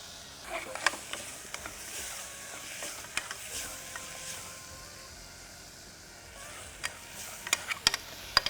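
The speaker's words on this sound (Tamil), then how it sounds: "இப்போ தக்காளி 2 நிமிஷம் வதங்கியிருக்கு." Tomatoes sauté in a pan for a gravy, giving a soft, steady sizzle under scattered clinks and scrapes of stirring. The sharper taps bunch together near the end.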